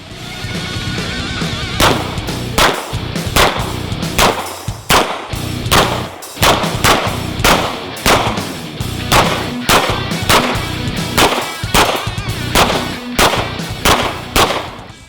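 A CZ Scorpion fires at an outdoor shooting range, about twenty loud, sharp shots in a steady, evenly spaced rhythm with no talking.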